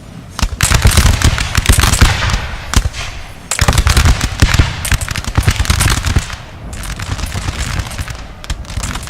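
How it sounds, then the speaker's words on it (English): Musket gunfire in Napoleon Total War during a 2v2 battle around a besieged building: loud, dense, crackling volleys in long bursts, with a brief lull before the firing resumes. "Opening fire."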